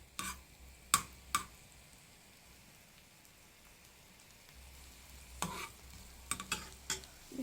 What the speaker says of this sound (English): I fry tomato, onion, garlic